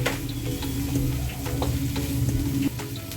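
Carrots, potatoes and onions sizzle steadily in a pan while a chicken roasts on the stovetop, with light stirring clicks and scrapes over a constant frying hiss and a low hum.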